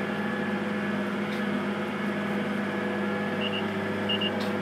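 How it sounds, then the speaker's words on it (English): A roughly 440-horsepower tractor pulling an anhydrous ammonia tank in McHenry County, Illinois hums steadily while its end-of-row warning gives a few short high beeps near the end. "that beeping you hear is the end of row sign"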